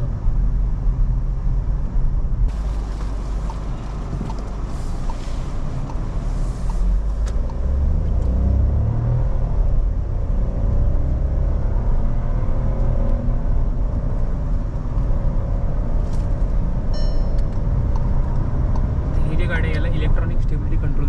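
A Volkswagen Virtus sedan cruising on a highway, heard from inside the cabin as a steady low engine and road rumble with tyre noise, while someone talks throughout.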